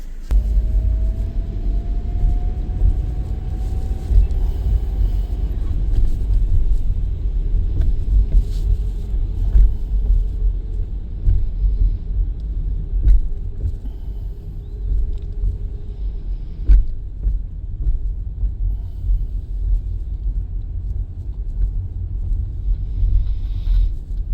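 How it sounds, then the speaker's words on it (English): A vehicle called the Freedom machine rolls onto a substantial jetty with a 10-tonne vehicle limit, its engine a steady low rumble with a faint rising whine, fairly close and continuous with no talking. "about to go for a drive on the jetty"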